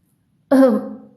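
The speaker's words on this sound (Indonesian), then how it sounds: "Mr. Dursley berdeham panik." A single short throat clearing, close and fairly loud, a quick voiced rasp that fades out.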